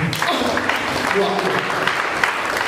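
A church congregation claps together during a service, a continuous ripple of many hands at moderate volume, with voices mixed in over the clapping.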